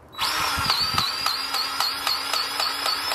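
A powered grease gun runs continuously while pumping grease into the track adjuster of a Yanmar ViO50 excavator, a loud steady high motor whine with a regular pulsing beat, close up and without talk.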